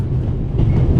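A train running in the video game The Raven Remastered, heard as a steady, close, low rumble that holds at a constant level throughout the short stretch, with no voices.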